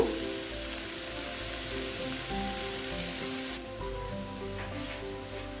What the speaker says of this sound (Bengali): এইভাবে আস্তে আস্তে কষিয়ে দিচ্ছি আস্তে আস্তে মশলার সঙ্গে পটলটা